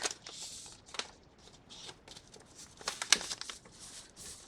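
Creased paper being folded into a small journal folio, heard as soft crinkling and rustling with a few sharper crackles, close and quiet, one louder crisp crunch near the end.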